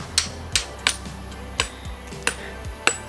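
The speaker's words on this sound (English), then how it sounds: "the next step was hammering in a grounding rod. All 8 feet of it" An 8-foot grounding rod is driven into the ground at an old workshop with a hammer: seven sharp metallic blows in a steady, slightly uneven rhythm, close and loud, with no talking.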